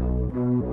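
Bass line separated from a song by AI audio separation, playing alone as steady low sustained notes that shift pitch twice over a brief stretch.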